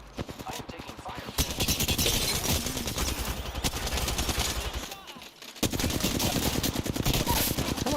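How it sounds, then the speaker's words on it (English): Rapid automatic gunfire rattles in dense bursts during an Apex Legends match, broken by a brief lull before the shooting resumes, loud and close. "I am taking fire."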